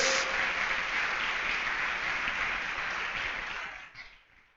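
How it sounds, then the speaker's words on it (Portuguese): Sustained applause from a crowd, a dense even patter of many hands clapping at steady loudness before fading out near the end. "Dá um aplauso a Jesus aí, ó"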